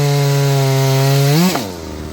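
A Neotec Farmmac 380W 72cc chainsaw cutting wood logs, its loud, close engine holding a steady high buzz before bogging down briefly into the cut, with no voices.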